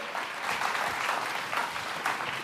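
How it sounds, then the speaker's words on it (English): Audience applause at a Deal or No Deal style event as someone comes forward, a dense continuous clapping from a crowd, fairly loud and steady throughout. "Sally, give Sally a big round of applause as she comes forward."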